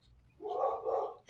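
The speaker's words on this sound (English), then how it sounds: "I hear my dogs" Two quick dog barks in a row, fairly close, followed by a brief noise at the end.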